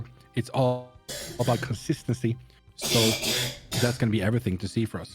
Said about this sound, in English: you can hear some coughing in the background as well